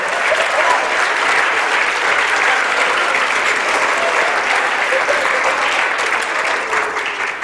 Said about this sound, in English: A round of applause for a good man